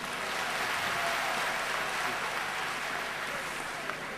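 A dense, continuous wash of applause rises from a ceremony audience, sounding fairly distant and muted, steady throughout with no break.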